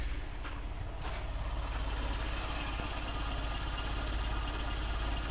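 Mercedes W124 with a carburetor engine idling at low RPM, around 500, just after a cold start, a loud, steady, close rumble with an even low pulse throughout and no voices.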